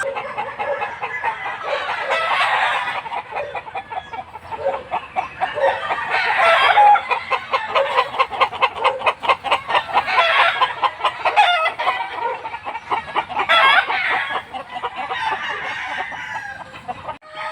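Dozens of Texas gamefowl on a farm cluck continuously, with repeated loud rooster crows rising above the flock every few seconds, close by and busy.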